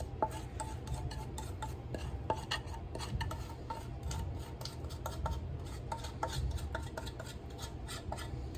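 Steady scraping and clinking of a spoon stirring a thick peanut butter mixture into cereal in a bowl, continuous close rubbing with frequent light taps against the bowl and no talking.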